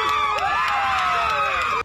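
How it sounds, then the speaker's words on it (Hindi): A crowd gathered outside a courthouse after a verdict cheers loudly and continuously, with shouts and whoops blending into a dense, steady roar that cuts off abruptly at the end. "अदालत के बाहर जमा हुई लोगों की भीड़ तालियां बजाकर और एक दूसरे से गले मिलकर जॉर्ज फ्लॉयड को मिले"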